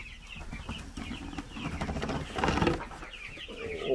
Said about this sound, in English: these are all of our brooder chicks